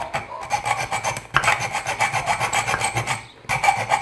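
Hand file rasping steadily across a metal gear-shift lever being shaped for a bridge-type motor, repeated strokes in close rhythm with two brief pauses, loud and near with no talk.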